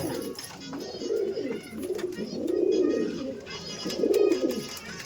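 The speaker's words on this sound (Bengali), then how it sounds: "এটা হচ্ছে দাদার কালা সবুজ পায়রা" Kala Sobuj pigeons in a loft give repeated deep, rolling coos, several swelling phrases rising and falling close by, with faint rustling and background noise between them.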